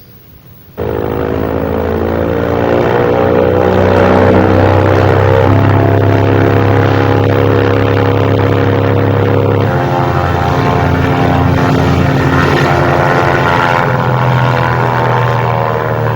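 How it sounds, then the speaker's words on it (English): Indian Air Force military aircraft, IL-76, AN-32 and Mi-26 transports with Jaguar, Mirage and MiG jets, pass close and loud as a continuous roaring engine and propeller drone that swells in and holds steady. "in their place fly the IL-76s, the AN-32s, the Mi-26s, Jaguars, Mirages and the MiGs"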